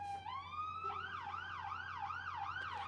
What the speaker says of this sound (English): Sometimes they're polite and they turn off their sirens right when they go by here.